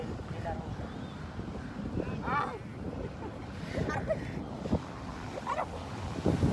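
Manila Bay water washes and splashes softly against the crushed dolomite shore of Dolomite Beach with wind noise, while people talk over it.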